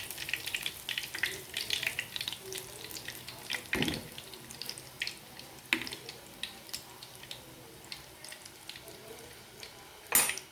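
Breaded chicken frying in hot oil, a steady close crackling sizzle with scattered pops and a few louder clatters, continuous throughout with no talking.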